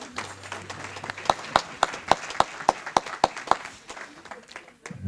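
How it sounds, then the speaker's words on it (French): Clapping at a church gathering for the diocese of Gap Embrun: a run of about ten sharp, evenly spaced claps in a steady rhythm that thins out toward the end. "Oui, on peut les applaudir."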